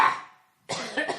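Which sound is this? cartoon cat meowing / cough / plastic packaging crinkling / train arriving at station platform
cough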